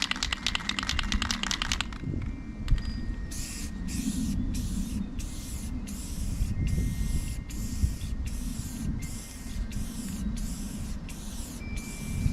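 Spray paint hissing from an aerosol can outdoors in wind, in repeated steady bursts of about a second each with short gaps, over a constant low wind rumble, close and fairly loud.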